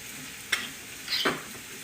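Donut dough being stirred in hot frying oil in a pan, giving a soft, steady sizzle with a couple of brief scraping stirs.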